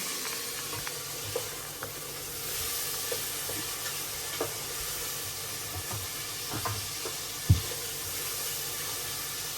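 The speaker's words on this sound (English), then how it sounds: "I'm gonna let this fry up" Purple cabbage frying in a pan for a lamb curry stew gives a steady, soft sizzle and hiss, broken by occasional clicks and one louder knock of a utensil, with no talking.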